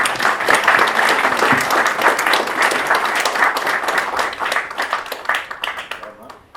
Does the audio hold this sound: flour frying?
no